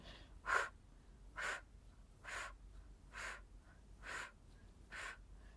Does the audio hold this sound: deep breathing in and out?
yes